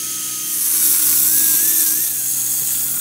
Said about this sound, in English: I'll take this grinder and from the bottom, I'm going to insert it at an angle as far as I can and cut along this entire line